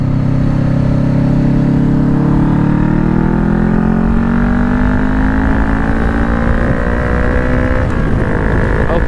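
A 2020 Honda CBR500R motorcycle accelerating on a highway, the engine note rising steadily through the gear under loud continuous wind rush, recorded close from the rider's position.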